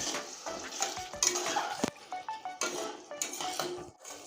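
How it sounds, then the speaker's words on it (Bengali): Spice masala stirred with a splash of water in a pan while cooking a kabuli chana curry, giving repeated close scraping and clinking of a spoon against metal with soft wet sizzling in between. "আমি অনেকক্ষণ সময় নিয়ে মশলাটা কষতেছি"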